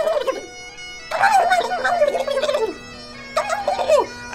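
Children imitate turkeys with warbling, gobbling calls in a few bursts, loud and close, separated by short pauses.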